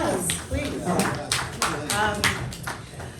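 Audience applause at an LGBTQIA+ film festival screening night Q&A in Toronto, with scattered hand claps continuing under voices and chatter for a few seconds.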